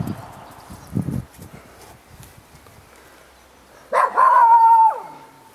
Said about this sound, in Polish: Piesek jakiś mi towarzyszy i pomaga mi. Coś do mnie mówi